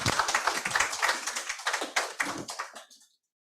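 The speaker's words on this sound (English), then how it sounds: "an applause for our panelists" Brief, fairly close clapping from a small group applauding panelists after a discussion, uneven hand claps that thin out and stop after about three seconds.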